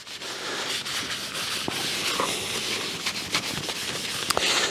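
Soft, steady rubbing as an oil finish is worked by hand into walnut lamp wood, a continuous close brushing texture with a few faint knocks.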